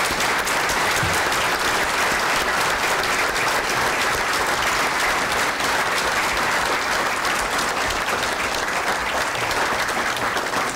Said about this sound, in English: And I think that applause says it all